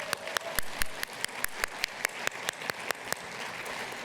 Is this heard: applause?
yes